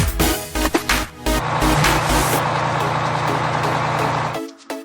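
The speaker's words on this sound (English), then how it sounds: "Excavator." A toy excavator gives a steady, loud engine-like rumble with a low droning hum, running about four seconds over background music before cutting off abruptly.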